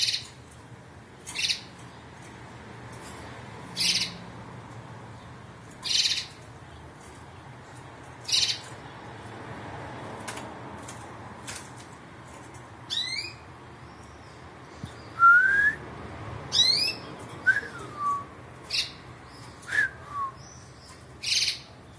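A bird calls outdoors in short, spaced chirps and squawks, with a few rapid trilled notes and quick whistled slides near the end, fairly clear against a quiet background.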